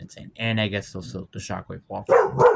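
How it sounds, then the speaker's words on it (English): A pet dog barks and yips loudly a few times close to the microphone, overlapping with someone talking. "That was my dog deciding to bark."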